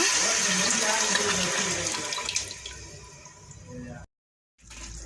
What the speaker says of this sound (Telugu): చింతపండు గుజ్జు వేస్తున్నా.